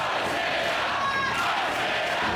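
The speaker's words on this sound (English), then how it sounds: "This crowd is coming alive in service of Isaiah Frazier" Wrestling crowd cheering for Isaiah Frazier in a mixed tag match, a steady dense roar of many voices with a few shouts rising above it, loud and continuous throughout.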